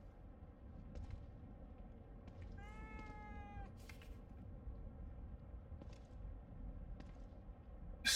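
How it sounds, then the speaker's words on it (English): A cat meows within The Evil Within 2, a short rising and falling call heard once, fairly clear against a low rumbling game ambience with a few faint clicks. "A cat."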